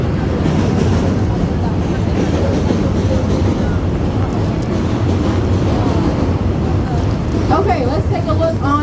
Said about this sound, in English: these trains that sit on our right as we go down the South Branch